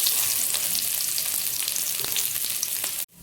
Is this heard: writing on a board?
no